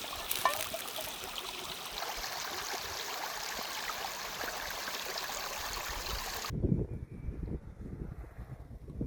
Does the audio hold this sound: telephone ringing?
no